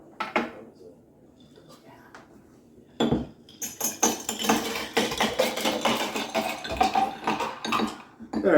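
A spoon stirs a cocktail in a glass, with bright, rapid metallic clinks and scrapes building after a quiet opening, alongside a few voices nearby.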